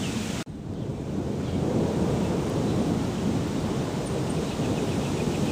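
Low, continuous rumble of distant thunder rolling under a building storm, steady and broad with wind noise over the microphone, after a brief sharp dropout near the start.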